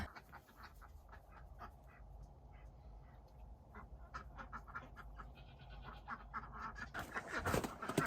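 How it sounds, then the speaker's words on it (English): Farm ducks quack repeatedly in a snowy yard, short irregular calls scattered over steady outdoor background noise, growing busier and louder near the end. "the ducks have been loving the snow"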